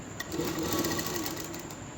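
A sewing machine stitches the neckline of a kameez, running in one continuous, even whirring hum with a fine rapid needle rhythm for about two seconds, fairly close and steady.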